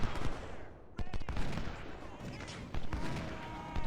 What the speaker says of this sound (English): Artillery is very close, Johnson.